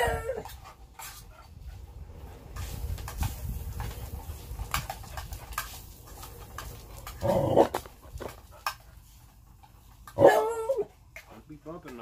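A dog close to the camera shuffles and moves about, giving a couple of short whimpering bursts amid low rumbling handling noise outdoors while a canteen-cup meal of Mexican rice and Spam is being cooked.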